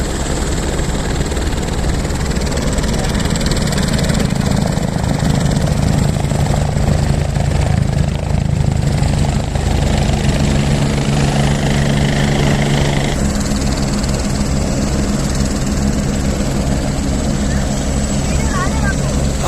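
A helicopter's rotor thumps in a loud, steady drone near Kedarnath, close and unbroken throughout, with a voice faintly audible beneath the engine noise.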